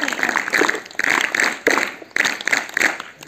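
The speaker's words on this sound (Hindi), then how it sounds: "इसका जवाब सही है, इसके लिए 3 तालियां बजाओ।" Schoolchildren at a morning assembly clap in loud, rhythmic bursts, several sharp groups of claps repeating close together with brief gaps between them.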